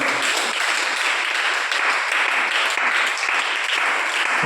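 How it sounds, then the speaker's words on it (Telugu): A church congregation claps steadily and loudly throughout, a dense, continuous wash of applause with no voices over it. "చప్పట్లు కొట్టండి."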